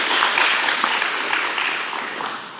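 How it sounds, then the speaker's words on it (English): A crowd at a school awards ceremony claps together in a broad, steady wash of applause that fades slightly toward the end. "A round of applause, ladies and gentlemen."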